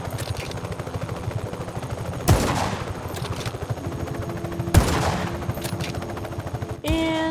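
Rapid automatic gunfire from the Just Cause 3 video game, dense sustained bursts with a couple of louder blasts, heavy close combat noise filling the whole stretch.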